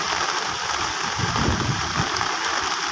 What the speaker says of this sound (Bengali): গাজীপুরে সকাল 8টার থেকে এখন পর্যন্ত দেখতে পাচ্ছেন বৃষ্টি হইতেছে, এখনও হইতেছে চলমান।